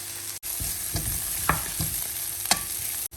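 Chopped onions with a pinch of salt sizzle in a pan for a puff pastry filling, while a spatula scrapes and taps against the pan several times, close up and with no talk.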